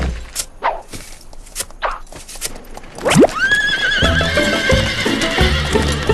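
Cartoon stagecoach pulling up with horses, loud whinnies rising over steady clip-clopping hooves and a rolling rumble, busy and close with brief voices in the mix.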